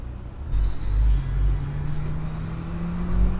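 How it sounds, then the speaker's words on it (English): A V6 or EcoBoost Ford Mustang exhaust rumbles past on a busy Florence, Kentucky road, a deep low drone that swells and lingers steadily in the background amid traffic noise. "if you just heard that exhaust in the background, that was a V6 Mustang"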